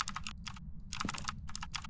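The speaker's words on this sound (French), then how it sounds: "Je joue sur mon clavier gamer." Rapid bursts of keystrokes clatter on a gaming keyboard during a Phasmophobia session, coming in several quick clusters with short pauses between them, close and crisp over a low background hum.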